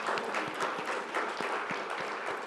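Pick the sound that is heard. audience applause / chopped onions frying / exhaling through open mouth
audience applause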